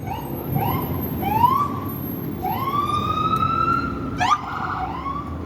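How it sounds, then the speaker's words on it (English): An ambulance siren wails as it pulls away from a serious car accident scene at Tremont and Ruggles, rising and sweeping over steady traffic rumble, with a sharp chirp partway through. "That's one of the ambulances that's going to another hospital."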